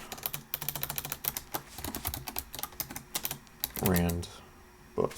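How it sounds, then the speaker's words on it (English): Rapid clicking keystrokes on a computer keyboard as notes are typed, irregular bursts of taps running through the clip, with a voice speaking briefly near the end. "We can just type it in here."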